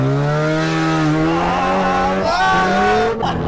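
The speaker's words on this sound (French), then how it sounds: "Je fais un petit tour en voiture." A car engine drones steadily at close range on a short drive, its pitch holding level and then shifting slightly as it changes speed, loud and continuous with no talk over it.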